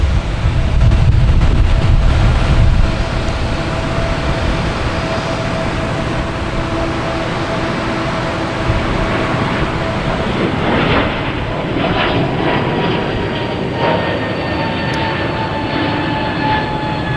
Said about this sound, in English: We got a JetBlue flight 772 coming in from Cancun, an A321